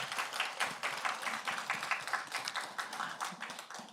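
A church congregation applauds the four finalists of a Bible recitation contest. The steady, dense clapping goes on for about four seconds at a moderate distance, with no talking over it.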